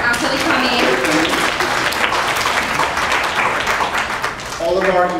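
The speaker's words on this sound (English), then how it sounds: "give yourselves a round of applause" Audience applause at a Caribbean unity festival and art showcase at Miami Dade College, a full, continuous clapping from many people, with voices talking over it, especially toward the end.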